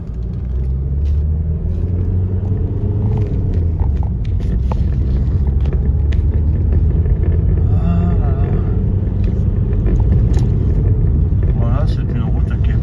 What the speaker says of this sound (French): En plus là il arrive un gros semi-remorque, vous voyez